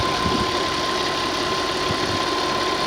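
A 2003 Audi Allroad with the 2.7 twin-turbo engine, largely stock apart from an aftermarket air filter, idles steadily with a dense, even mechanical hum and faint ticking, close and continuous throughout.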